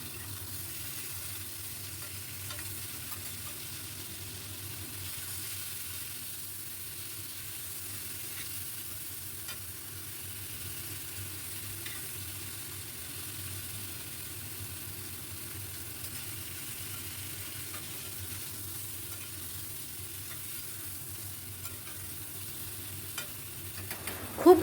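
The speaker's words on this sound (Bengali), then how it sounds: "প্রথমে নুন হলুদ মাখানো বেগুনগুলোকে বেশ ভালো করে ভেজে নেব।" Pieces of brinjal rubbed with salt and turmeric frying in oil in a pan over a high gas flame, a steady low sizzle that continues quietly without a break, with no voices.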